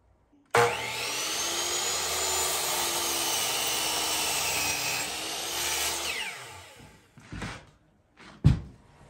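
Steady mechanical buzzing of a saw cutting through a wooden post, running continuously for several seconds before stopping, followed by a few short knocks and clatters.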